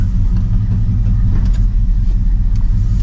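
A 1967 Ford Mustang with dual exhaust rumbles steadily and loudly up close, a deep continuous engine drone with slight throttle variation throughout.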